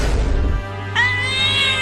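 After a brief low rumbling hum, a cat gives one drawn-out, high meow, loud and close.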